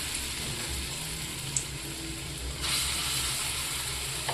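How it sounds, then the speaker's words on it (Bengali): Lentil fritters (bora) frying in mustard oil in a wok, a steady close sizzle and hiss running throughout with a brief spike partway and a slightly louder stretch toward the end. "কড়াইয়ের মধ্যে আমি সর্ষের তেল দিয়ে দিলাম, বড়াগুলো ভেজে নেব।"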